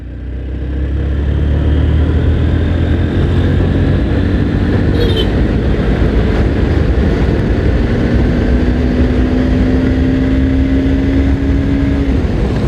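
A Honda XBlade 160 motorcycle engine pulls steadily in third gear on the road, a loud continuous drone with a rising tone as speed builds, wind roar mixed in, no talk.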